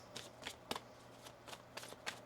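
A deck of tarot cards being shuffled, with a series of quick riffling bursts repeating at roughly even intervals, close and fairly quiet.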